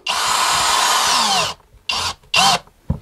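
A power drill drives a screw into a wooden workshop wall, a loud long whirring burst followed by two short revving bursts as the screw seats, close up with no talking.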